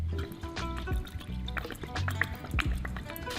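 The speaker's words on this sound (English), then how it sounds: "Chucking in a little bowl here. Worcestershire sauce." Worcestershire sauce poured into a small bowl while preparing Texas crumbed steak fingers gives a short, soft liquid pour with light drips, heard against a steady background hum.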